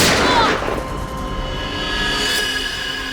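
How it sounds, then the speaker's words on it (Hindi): A single sharp gunshot in a TV crime drama, a loud blast at the start that rings out and decays into a lingering echo. "उसके बाद दूसरी गोली चली"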